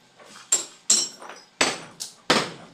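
A hammer pounds away at a construction site: four sharp, loud strikes close by, spaced at a steady, unhurried rhythm with brief ringing decay after each, and no talking.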